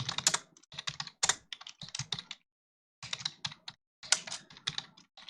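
Computer keyboard keys clatter in quick bursts of typing while Java code is written, close and alone, with short pauses between runs of keystrokes.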